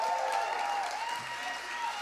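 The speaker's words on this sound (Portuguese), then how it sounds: "Aplauda ao Senhor pelo Luiz estar servindo a gente." An audience at a church youth camp applauds for Luiz with steady, fairly loud clapping that holds for a couple of seconds.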